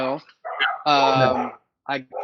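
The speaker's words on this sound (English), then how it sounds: "My dogs just went crazy on this show." Several sharp, loud dog barks in quick bursts with short pauses between them, close by and dominating the clip.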